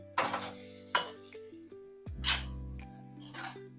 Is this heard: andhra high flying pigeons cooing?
no